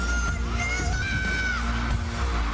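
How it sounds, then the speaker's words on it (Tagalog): A large stadium concert crowd of about 30,000 screams and yells loudly as the singer appears, a continuous roaring wall of high-pitched cheering with shrill whoops rising above it. "malakas na hiyawan na ang maririnig"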